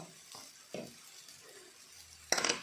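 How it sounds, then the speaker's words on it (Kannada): Turmeric and ground masala frying in a pan for mango chitranna, a few scraping stirs of a spoon against the pan, then a sharper clatter of utensils near the end over a low, steady sizzle. "ಸ್ವಲ್ಪ ಹೊತ್ತು ಫ್ರೈ ಮಾಡಬೇಕು"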